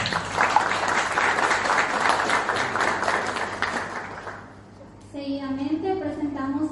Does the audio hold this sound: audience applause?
yes